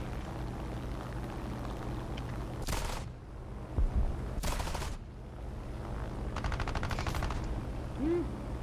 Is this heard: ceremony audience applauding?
no